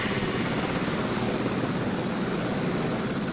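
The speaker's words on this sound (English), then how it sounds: "The downdraft from the helicopter's 9-metre rotor blades will make the transfer across very rough terrain even more difficult" Continuous loud thrum of a helicopter's 9-metre rotor blades over rough forest terrain, a dense steady chop with no pauses and no voices.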